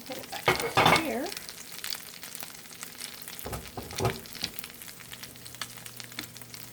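Tuna albondigas (patties) sizzling and frying in a pan, a steady hiss with brief louder spatters early on, close and alone with no talk.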